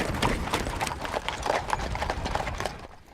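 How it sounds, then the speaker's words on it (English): A herd of horses on a cattle-style drive trots along, their hooves thudding and clip-clopping in a quick, uneven patter outdoors. "Back on the move, the horses pick up the pace,"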